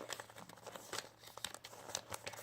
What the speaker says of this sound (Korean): 여기 이렇게 접어주세요.